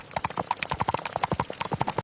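A horse pulling a passenger cart clip-clops along at a brisk, steady pace, with close, crisp, regular hoofbeats throughout before stopping abruptly.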